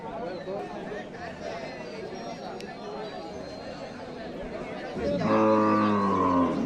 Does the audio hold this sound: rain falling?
no